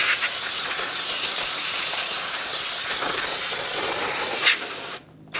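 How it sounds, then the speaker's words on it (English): A steady aerosol spray of brake cleaner hisses onto a brake rotor for several seconds, close and loud, then briefly cuts out before resuming. "Just gonna brake clean that off."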